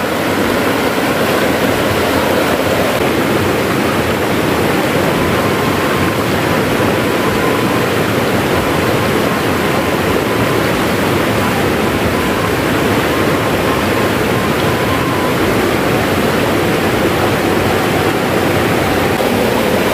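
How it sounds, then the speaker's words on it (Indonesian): River water at Kampung Baduga rushes loudly and steadily, a dense continuous roar of flowing current close by, with no talking over it. "Nah ini Sungai Baduganya."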